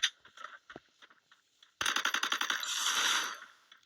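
Gunfire in a shooter video game: a few scattered sharp shots, then a rapid burst of automatic fire followed by a dense crackling rattle that fades out, fairly faint overall.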